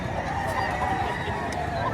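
Chickens clucking at a busy poultry sale in Batangas, a continuous murmur of fowl sounds mixed with crowd noise and chatter, moderately loud and steady.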